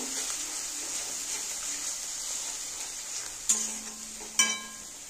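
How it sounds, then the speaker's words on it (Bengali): Spice paste with Kashmiri chili powder frying in a pan, a faint steady hiss with a couple of sharp stirring scrapes near the end, no talking. "এবার আমি একটু কাশ্মীরের লঙ্কার গুঁড়ো দেব। এটা ভালো করে কষিয়ে নেব।"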